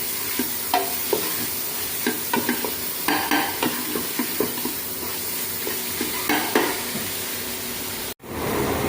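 Onion, garlic and ginger cook down in a pan for a BBQ sauce, with a spatula scraping and tapping in a regular rhythm over a continuous close sizzle, then a short break before the frying resumes.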